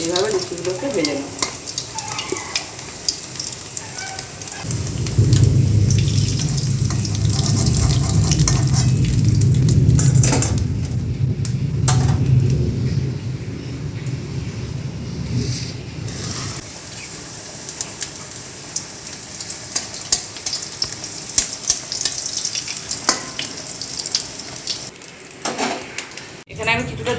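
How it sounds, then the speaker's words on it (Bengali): Luchi (puri) fry in hot oil with a loud, dense sizzle and bubbling that swells for several seconds and then eases, close by, alongside clinks of a utensil and someone talking over it. "এইভাবে লুচিগুলোকে ভেজে নেব।"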